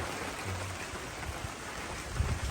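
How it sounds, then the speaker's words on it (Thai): Rain falling outdoors in rural Thailand, a steady dense hiss of drops filling the background, continuous and even with a few faint low thumps. "เป็นบรรยากาศฝนตกไปก่อน"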